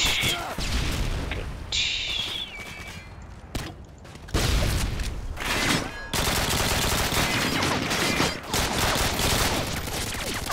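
Rapid bursts of automatic gunfire and explosive booms from the video game Modern Warfare 2, loud and dense, with crashing impacts that come and go over about ten seconds.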